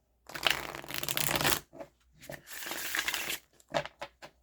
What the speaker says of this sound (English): And then the riffle shuffle